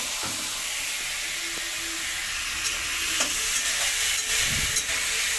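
Potato pieces fry in a hot kadai, giving a steady, continuous sizzle and hiss with a few stirring scrapes and clinks close by, and no talking.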